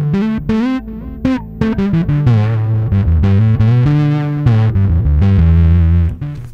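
Electric guitar runs through a distortion pedal with reverb and delay, playing choppy notes that grow into sustained, saturated lead lines with lingering tails, loud and close.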